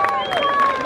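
An audience applauds at a bull-fighting event in Kupres, 2023, a dense crowd of clapping with a voice over a PA sounding through it, steady and moderately loud for under a second.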